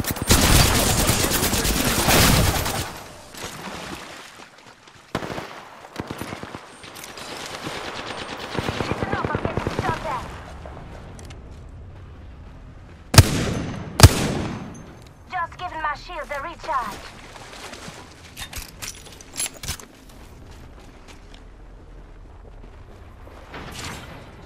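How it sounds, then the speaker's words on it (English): Rapid automatic gunfire bursts from Apex Legends battle royale combat, loud and dense at first, then scattered shots and sharp single cracks mixed with game effects, a voice talking over parts of the fight. "I'm getting shot at."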